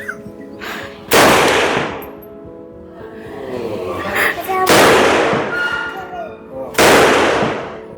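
Gunfire rings out at the Cu Chi Tunnels shooting range in Vietnam. Three loud, sharp blasts land a few seconds apart, each decaying with a long echo, and faint chatter sits between them.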